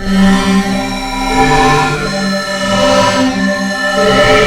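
A sustained Hydrasynth drone with feedback, dry/wet and depth turned fully up, thick and swirling with heavy modulation and ringing resonant overtones, loud and steady throughout with no voices.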